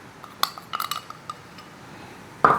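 A utensil clinks and scrapes against a bowl while chicken cartilage is stirred with cornstarch. Light, sparse taps come first, then a louder scrape near the end.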